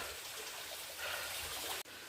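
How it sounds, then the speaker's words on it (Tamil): A waterfall on a forest trail at Pachamalai sends a steady broadband rush of water, continuous and moderately distant, with no voices over it. "பக்கத்தில் எங்கேயோ தான் நல்ல அருவி சத்தம் கேட்குது."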